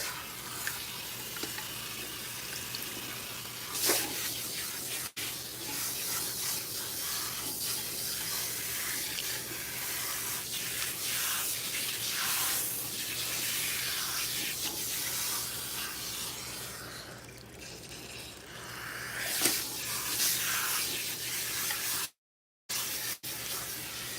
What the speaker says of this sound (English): You do want to make sure that you thoroughly rinse.